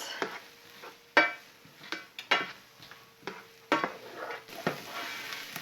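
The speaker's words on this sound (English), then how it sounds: "we're going to go ahead and saute the onions" Onions sauté in a pan with a low sizzle under repeated stirring, as a utensil scrapes and knocks against the pan in irregular bursts, close up.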